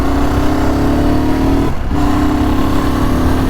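A BSA Scrambler 650 with a 652cc liquid-cooled single-cylinder engine runs steadily and loudly while being ridden, its drone dipping briefly in the middle before picking back up.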